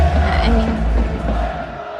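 A sold-out baseball crowd at a Lotte Marines versus SoftBank Hawks game roars and chants, a loud, dense stadium swell that fades slightly near the end.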